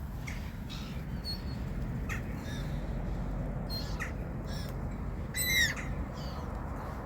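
Several gulls call in short harsh cries scattered over a steady low rumble of outdoor noise in Szczecin, Poland, at minus 3 degrees, one louder squawk standing out near the end.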